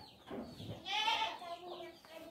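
A goat bleats once at a rural home, a short wavering cry heard nearby and moderately loud, with faint background noise around it.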